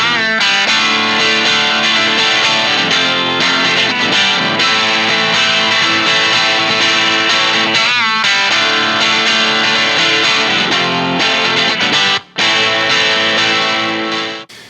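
Electric guitar played through a Boss Blues Driver overdrive pedal for a slightly crunchy tone, loud sustained chords and riffs filling the passage alone, with one sharp brief dropout near the end.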